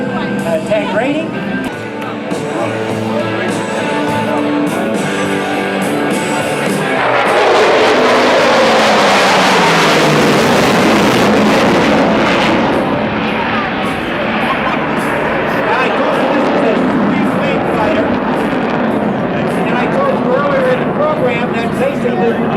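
Jet aircraft at a night air show in Gary, Indiana, a swing-wing plane flying past with a rising roar that swells and sweeps across the field, heard over crowd murmur and a commentator's voice.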